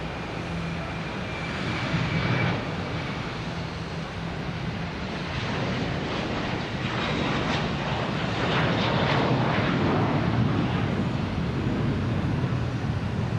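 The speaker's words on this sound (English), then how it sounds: "We got JetBlue heading to LAX." A JetBlue airliner at Boston Logan Airport roars past at a distance, its engine rumble swelling and holding steady over wind noise with no talking.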